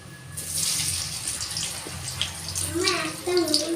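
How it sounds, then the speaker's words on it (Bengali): Cut eggplant pieces go into hot oil already seasoned with nigella seeds, bringing a broad, steady hiss of frying that holds for a few seconds while a person talks over it. "এবার আমি এতে কেটে রাখা বেগুনগুলো দিয়ে দেবো"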